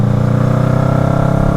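Motorcycle engine droning steadily while riding through traffic, a loud, even mid-pitched hum with a fast regular pulse and no change in revs.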